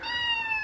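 A cat stuck in the floor lets out a single short, tonal meow, close and clear, with no talk over it.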